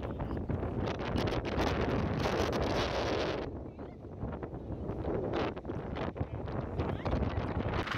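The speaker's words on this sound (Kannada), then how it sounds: "ಗಾಳಿ ಅಂದರೆ ವಿಪರೀತ ಗಾಳಿ" Strong wind gusts buffet the microphone on an open hilltop near a dam, a loud continuous roar that surges and eases with no speech.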